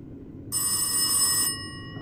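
An old-style telephone bell rings once for about a second inside the horror video game Rise of Insanity, bright and clear against a quiet background, then fades off.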